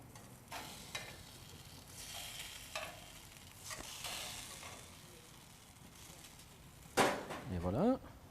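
Potatoes sizzle on a barbecue grill beside halibut, a soft steady crackle close by with scattered scrapes and clicks, then a louder burst of sizzling and metallic scraping near the end.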